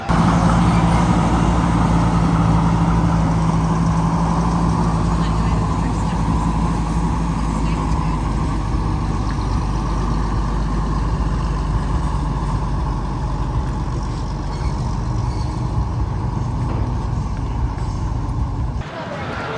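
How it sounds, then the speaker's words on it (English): A truck rolls past carrying a tank and another military vehicle on a trailer at a classic car show, its heavy engine rumble steady and loud throughout, with a brief air-brake-like hiss early on. "There is a tank on the back of a trailer with another military vehicle."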